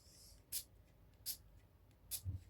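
Perfume fragrance is sprayed onto the neck in three short, hissing bursts spaced about a second apart, close up, with a faint soft sound at the end and no talk.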